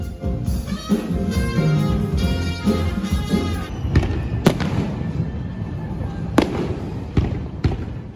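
Outdoor fireworks pop and crackle in a dense stream of bangs and thumps, with sharper individual cracks standing out as the display continues at a moderate distance.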